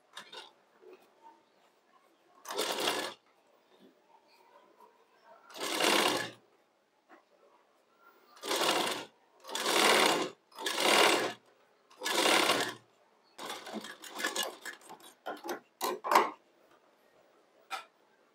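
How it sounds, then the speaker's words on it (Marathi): A sewing machine stitches a blouse sleeve in a string of short, quiet bursts of whirring, with pauses between runs and faster stuttering stitches near the end. "एक आपण शिलाई मारून घेऊ"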